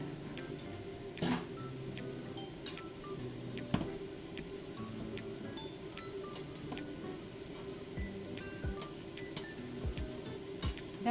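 Light clinks and taps of dishes scattered through a quiet room, with a low steady hum underneath.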